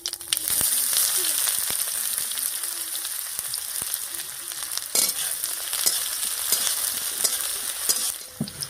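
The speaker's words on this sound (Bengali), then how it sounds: "এবারে পাঁপড় ভাজার এই তেলের মধ্যে ফোড়ন দেবো, আর ফোড়ন দেবো গোটা জিরা, শুকনো লঙ্কা আর পেঁয়াজ কুচি দিয়ে।" Whole cumin, dried red chillies and chopped onion fry in oil left over from frying papad, a steady close sizzle with intermittent scraping and tapping from a stirring spoon.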